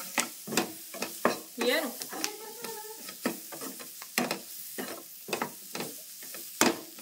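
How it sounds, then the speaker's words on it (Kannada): Chili powder and salt frying in a pan for chutney, a soft sizzle broken by repeated scraping stir strokes, close up, while a voice speaks briefly. "ನೋಡ್ರಿ ಇವಾಗ ಖಾರ ಉಪ್ಪು ಎಲ್ಲ ಫ್ರೈ ಆಯ್ತ್ರಿ"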